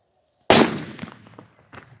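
A half-gram firecracker goes off in a single sharp, loud bang that decays over about a second, followed by a smaller crackle or echo shortly after, outdoors with no talking.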